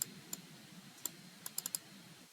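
Faint, sparse clicks of a computer keyboard or mouse at a desk during work on files, about seven light taps spread unevenly over two seconds in a quiet room.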